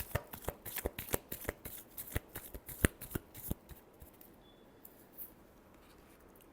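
A deck of cards is shuffled close by in a rapid series of crisp riffling snaps that taper off into quiet.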